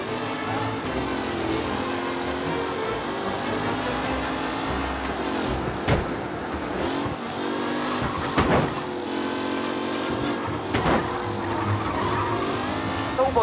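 Race cars in the Mafia: Definitive Edition video game roar through a race with continuous revving engines and occasional sharp tire squeals and skids.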